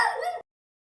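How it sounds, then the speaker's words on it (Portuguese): A single short, clear dog bark, loud and close, cut off abruptly and followed by silence. "É o cachorro."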